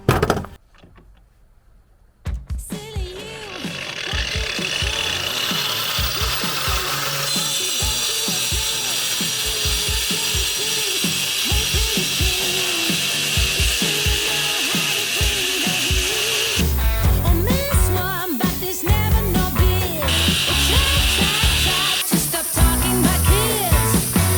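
A Crown CT-12325-25 wall chaser cuts a groove set to its maximum 29 mm width. After a brief quiet start, a loud, steady mechanical grinding whine runs continuously with a rough, ratcheting texture, close and without speech.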